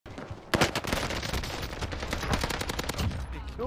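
Rapid automatic gunfire in Call of Duty Warzone on the Fortune's Keep map, a dense burst of shots starting after a brief lull and continuing steadily, loud and close throughout.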